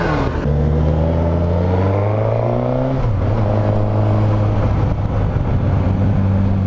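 A 2021 Suzuki GSX-S1000 motorcycle's 1000cc engine pulls hard, its tone rising steadily, dipping at a gear change, then climbing again, loud and close throughout.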